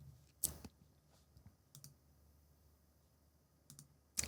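A computer mouse clicking a few times, sharp isolated clicks spaced a second or more apart in a quiet room, with no talking.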